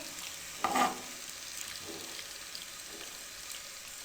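Chicken frying in lemon juice gives a soft, faint sizzle with a brief stirring scrape near the start, heard alone and without talk.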